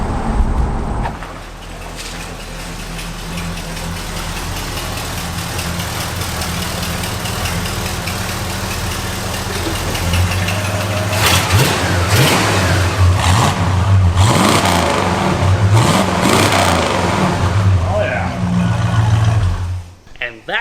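A 1960s Ford Galaxie V8 idles with a low rumble, then revs and accelerates hard, its engine note rising and swelling loudly up close before easing off at the end.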